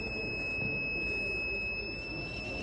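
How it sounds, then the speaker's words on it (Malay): An Arduino laser sensor buzzer for long-jump foul detection sounds one steady, high-pitched electronic tone that holds unbroken throughout, over faint background noise. "Apabila laser mengesan kaki atlet, buzzer akan berbunyi seperti ini contohnya."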